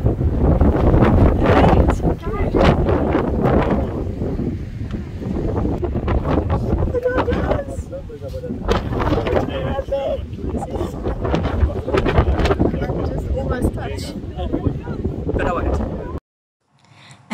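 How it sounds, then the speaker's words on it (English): Strong wind buffets the microphone at the penguin beach in Cape Town, a loud continuous rumbling roar that gusts and swells almost without pause, with voices talking underneath. "And as you could hear how windy it was,"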